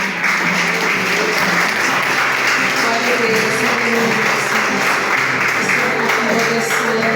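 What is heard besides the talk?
congregation applauding in church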